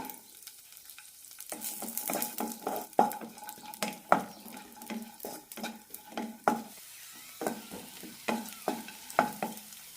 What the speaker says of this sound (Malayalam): അണ്ടിപ്പരിപ്പ് ചെറുതായി ചോക്കാൻ തുടങ്ങിയിട്ടുണ്ട് ഇനി ഇതിലേക്ക് മുന്തിരി ഇടാം